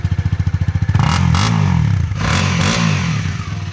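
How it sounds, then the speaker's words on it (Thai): A Honda CL300 scrambler with a two-into-one exhaust idles with a rapid thumping pulse, then revs up into a loud, rough engine roar that dips and rises again, close by with no talk. "เสียงเครื่องยนต์ที่หนักแน่นทรงพลังนะ"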